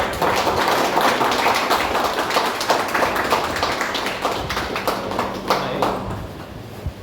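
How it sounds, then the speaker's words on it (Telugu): Crowd applause honouring a labour officer at an ID card distribution event for construction workers in Armoor, a dense, steady patter of many hands clapping throughout, nearby and fairly loud. "అందరు గట్టిగా చప్పట్లతో సార్"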